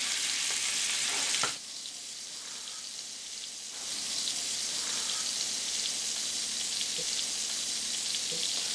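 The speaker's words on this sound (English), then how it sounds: "We're going to put them salt side down into our pan. And the pan's at high heat, so these are going to sear actually pretty quickly." Scallops searing in a pan on high heat, a loud, continuous sizzle that briefly dips and then swells again, heard alone.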